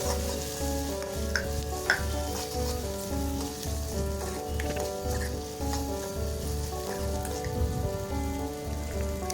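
Steady crackling sizzle of cumin and other tempering spices frying in hot oil, dense popping continuing throughout with a low hum underneath.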